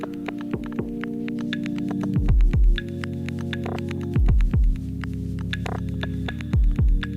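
Cassette effect on a Roland P-6 sampler adds a low humming hiss and wobbling tape-like noise to a looping beat with repeated thumping low hits and ticking clicks.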